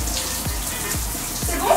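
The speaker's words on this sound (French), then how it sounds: "Remets-toi un peu sous la douche." Shower water runs steadily in a bathroom during a vacation, a continuous splashing hiss with a few soft drips and thumps, close by; faint voices may sit underneath.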